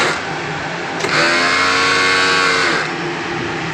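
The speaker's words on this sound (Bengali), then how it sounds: "আজকে কুচির মাল সেলাইতেছি" Garment-factory sewing machine stitching pleated ladies' fabric, a loud steady mechanical whir that ramps up, holds for about two seconds and winds down, with no talk.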